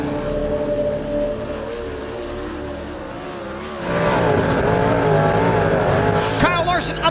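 Dirt race car engine roaring on a qualifying lap, a steady loud drone that rises and intensifies partway through, with faint talk mixed in.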